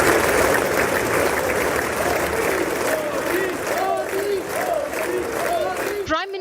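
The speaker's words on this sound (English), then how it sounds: "The Prime Minister walked into loud cheer and applause as lawmakers welcomed him." Lawmakers in the US Congress cheer and applaud as India's Prime Minister Narendra Modi arrives for his address. A dense, loud wall of clapping and crowd cheering holds steady throughout before cutting off abruptly at the end.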